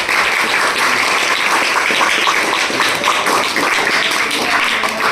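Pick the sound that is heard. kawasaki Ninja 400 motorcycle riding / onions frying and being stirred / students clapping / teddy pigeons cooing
students clapping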